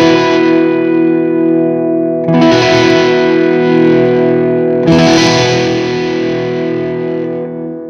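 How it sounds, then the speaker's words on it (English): Electric guitar through a Moog Minifooger MF Delay pedal with drive, gritty driven tone and echoing delay, sustained chords struck twice with repeats trailing and fading behind them. "this drive knob will actually get you a little bit of distortion"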